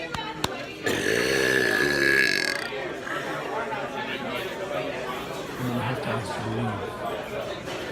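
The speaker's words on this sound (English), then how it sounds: "here's the burp" A long, loud, low burp rumbles out for more than a second in a crowded restaurant, heard close over constant chatter and crowd noise.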